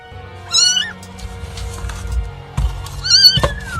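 Trapped cats yowling and meowing loudly, two sharp drawn-out cries separated by quieter rustling and movement, close and piercing with no talk.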